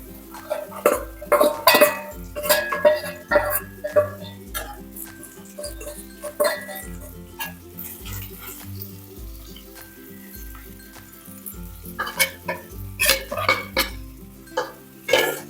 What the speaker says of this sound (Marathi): आता हे सर्व आपल्याला मिक्स करून घ्यायचं आहे